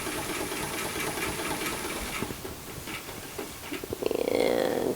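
Sewing machine stitching forward at about 1.5 mm stitch length while sewing a bound buttonhole, a steady close mechanical whir that settles and then shifts in tone near the end.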